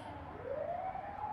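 An ambulance siren passing on a street, a faint wailing tone rising steadily in pitch over a short stretch, distant and low under city ambience.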